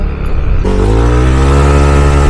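A motorcycle on Arisun RS2 Super Sport tires revs hard and accelerates toward top speed, its loud engine note climbing steadily in pitch close to the microphone with no talk over it.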